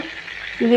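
Stuffed brinjal curry sizzles at the bottom of a pan, a steady soft frying hiss that swells louder near the end, with a brief voice joining at the close.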